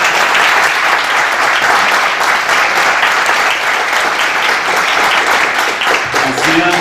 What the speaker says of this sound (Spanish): Leopoldo, un saludo aquí a la sala y un aplauso a la sala.